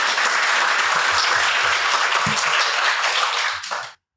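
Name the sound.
audience applause for James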